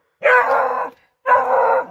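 A four-month-old coonhound puppy barks at a raccoon in two loud, drawn-out baying barks close by, each lasting most of a second with a short gap between, no talking.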